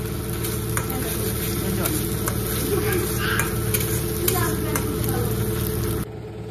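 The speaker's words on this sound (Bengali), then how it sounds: "এখন আমরা লোহার কড়াইতে রান্না করছি" Masala for aloo dum frying and being stirred in an iron wok, a steady close sizzle with scraping stir strokes throughout, fading abruptly near the end.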